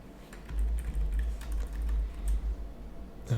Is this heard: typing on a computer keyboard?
yes